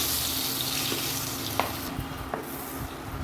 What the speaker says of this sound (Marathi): हळद आणि मसाला तेलावर थोडासा परतून घ्यायचा आहे